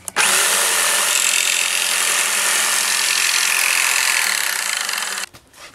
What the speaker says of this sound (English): take your saw